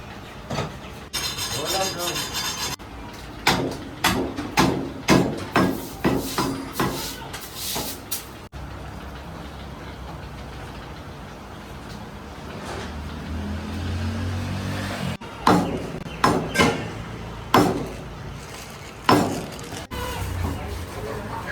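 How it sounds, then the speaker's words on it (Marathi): A butcher at a mutton shop chops goat meat, with sharp close strikes falling in quick rhythmic bursts separated by pauses of quieter shop background. "ते बकर कापतायत ना, तर आम्हाला पुढे जाऊन देत नाहीत"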